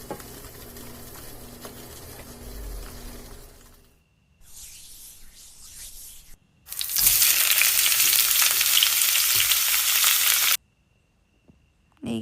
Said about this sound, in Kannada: ಅದನ್ನು ಬ್ರೌನ್ ಕಲರ್ ಆಗುವವರೆಗೂ ಚೆನ್ನಾಗಿ ಫ್ರೈ ಮಾಡಬೇಕು